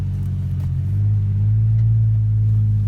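An off-road vehicle's engine rumbles and revs steadily as it slides through mud, a loud, continuous low drone that swells slightly midway and holds.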